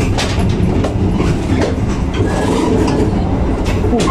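The Papandayan train arriving at Cibatu station rumbles loud and close, wheels clacking steadily over the rails in a constant heavy roar with no pauses.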